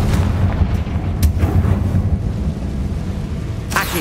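A fiery Confringo spell blast from the Hogwarts Legacy video game, booming loud and close with a dense rumble that carries through the whole stretch and a sharp crack near the end.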